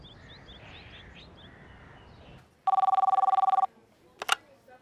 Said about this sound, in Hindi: फोन बज रहा था